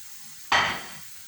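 A flatbread cooked in a frying pan with a little oil gives a short burst of sizzle as it is flipped, then fades back to a quiet hiss, with no voices.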